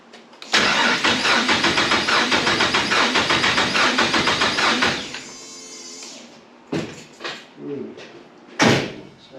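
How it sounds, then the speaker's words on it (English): A Toyota FJ45 fitted with a Barra engine cranks in a fast rhythmic churn for about four seconds, then catches briefly before dying, followed by scattered clunks and a short burst near the end. "Anyway, we're turning over, that's exciting."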